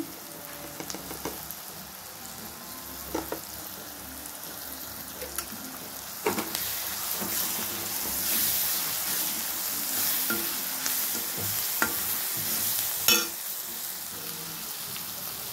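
Chopped onions with ginger-garlic paste and a little chilli powder fry in a pan for ridged gourd curry, giving a steady close sizzle that swells midway, with scattered clinks and scrapes from the spoon as they are stirred.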